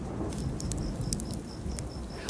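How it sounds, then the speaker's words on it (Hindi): Heavy rain pours during a stormy night in an animated Hindi cartoon story, a dense steady hiss with scattered sharp patters and drips, loud and close, with no talking. "रास्ते में बहुत जोरों से बारिश शुरू हो जाती है"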